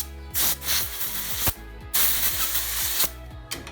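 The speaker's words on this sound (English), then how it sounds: "Just take some compressed air." Compressed air blasts through a performance fuel/oil hose to clear out debris, coming as three loud, broad hissing bursts of about a second each, separated by brief gaps, close and with no talk.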